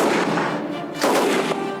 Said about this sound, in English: This is the Lewis gun.